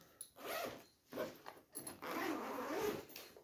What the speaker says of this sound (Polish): Zamki mamy otwierane na dwie strony